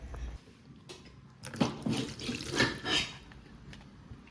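Water runs steadily from a kitchen tap in bursts as hands are washed, a close hiss and splash with small clinks, louder in the middle and easing off toward the end.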